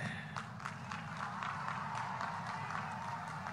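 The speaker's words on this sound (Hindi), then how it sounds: "एक बार जोरदार तालियों से इन लखपति दीदियों का सम्मान कीजिए।" Crowd applause at a political rally in Assam honoring women from a self-help program, steady dense clapping from a large distant audience with a faint voice underneath.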